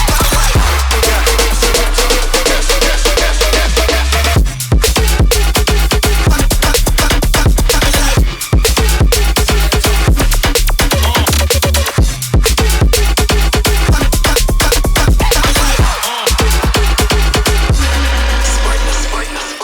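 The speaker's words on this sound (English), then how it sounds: "That and also the snare roll we got going on here." A drum section with a snare roll in a music track: loud, dense beats with a steady pulse and a deep bass line, broken by brief drops, with no talking.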